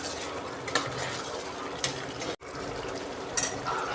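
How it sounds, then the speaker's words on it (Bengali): Chicken curry stirred in a pot, a soft wet simmer with a few sharp clinks of a spoon against the pot, close and steady, with a brief cut midway. "নেড়ে দেওয়া।"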